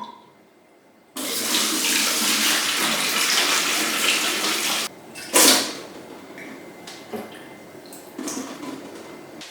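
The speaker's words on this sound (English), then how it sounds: "And then secondly pouring it out of the Pinter here." Liquid pours steadily out of a Pinter home brewing device for about four seconds, a loud continuous splashing stream that stops abruptly, followed by a few brief splashes and trickles.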